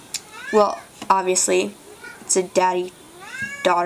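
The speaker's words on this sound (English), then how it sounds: "sorry, that was my cat." A house cat meows close by several times in short, rising cries, mixed in with a young speaker talking.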